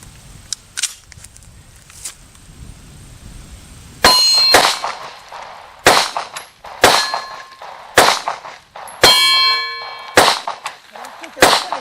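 A handgun shooting MagTech ammunition at an outdoor range, loud sharp shots with metallic ringing clangs, a few spaced reports at first and then a quicker string of about seven shots.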